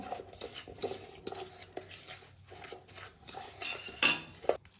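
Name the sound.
stirring sugar mixture in a bowl for cake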